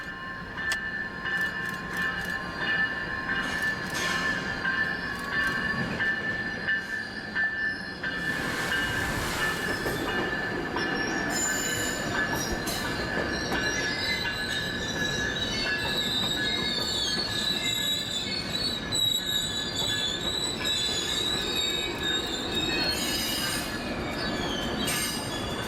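Coaster 676 commuter train rolling into a downtown San Diego station, loud metallic wheel squeal ringing over heavy rumble and clatter of railcars, with crossing bells faintly in the background and no talking.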